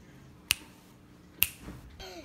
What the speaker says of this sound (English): I teleport by snapping my fingers